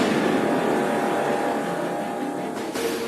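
McLaren P1 hybrid hypercar engine giving a steady, loud, continuous roar that holds level throughout with a slight shift in tone near the end.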